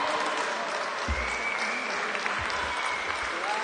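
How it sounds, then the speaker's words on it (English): A crowd applauds an Italian winner at a chessboxing world championship in Riccione, a steady, moderately loud round of clapping from many hands with a few low thumps. "And a round of applause from the hometown and his Italian countrymen."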